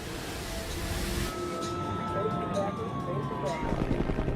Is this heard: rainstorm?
no